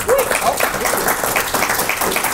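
An audience at a Star Wars panel at Comic Con Montréal 2025 bursts into loud, dense applause and cheering that fills the hall continuously and close up.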